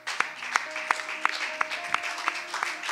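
A church congregation claps in a steady rhythm, a sharp clap roughly every third of a second, over a faint sustained voice or tone in a large room.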